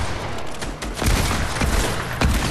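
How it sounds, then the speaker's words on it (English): SMG fire in the Fortnite video game, rapid bursts of close, loud shots with heavy low thumps in quick succession over a short stretch. "Using an SMG, Dustin."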